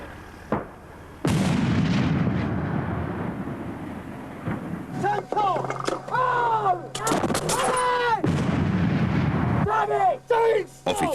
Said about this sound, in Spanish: Cuando disparas este cañón de 105 milímetros,